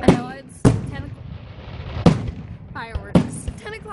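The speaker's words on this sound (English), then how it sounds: "Fireworks. 10 o'clock at night." Fireworks going off at night, with several sharp, loud bangs spaced unevenly across a few seconds, each trailing off into ringing echo and a faint crackle.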